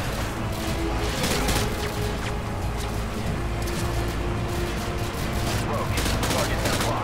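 Explosions and sustained gunfire in Call of Duty: Modern Warfare 2, including a frag grenade blast, with continuous loud shooting and booms throughout and voices in the mix.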